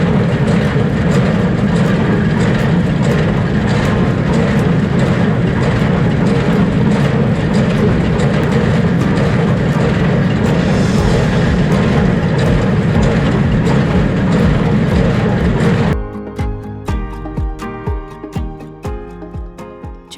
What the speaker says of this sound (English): I'm going to go back to baling and working on my strings to make sure they are knotting.